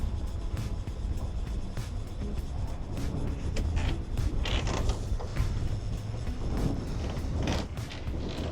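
On a sailing boat anchoring at a reef, the anchor gear gives off a continuous run of close creaks and mechanical groans with irregular clunks, no voices over it.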